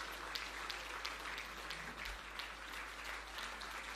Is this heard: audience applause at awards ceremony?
yes